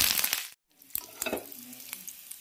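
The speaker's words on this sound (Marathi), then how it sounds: "ते तडतडलं की त्याच्यामध्ये कढीपत्ता टाकायचा" Cumin and curry leaves crackle and sizzle in hot oil for a chutney tempering: a loud burst of spitting, a brief pause, then sharp pops over a steadier fry.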